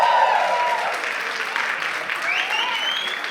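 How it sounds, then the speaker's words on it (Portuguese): A church audience of mostly women breaks into applause, a full, sustained wash of clapping with some voices and whoops rising through it before it gradually thins. "as mulheres iam bater mais palmas e dizer mais amém do que os homens"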